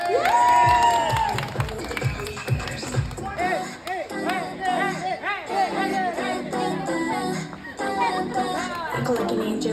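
A crowd at a contest winner announcement claps, cheers and shouts, with children's voices mixed in, sustained and lively over music and voices throughout.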